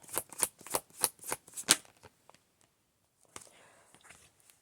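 Tarot cards are shuffled in about seven quick, crisp riffling bursts, close and fairly loud, followed by quieter soft handling sounds.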